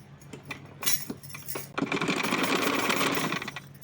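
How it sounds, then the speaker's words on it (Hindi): A sewing machine stitches a cotton dress for a Laddu Gopal idol, starting with a few short bursts and handling clicks, then running steadily at close range for the last couple of seconds. "इस पर अब हम सिलाई लगाएंगे"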